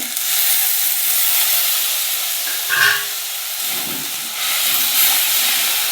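Loud, steady sizzling hiss of a tomato, ginger, garlic and onion masala frying in a pan after water is added, with a brief bubbling burst midway.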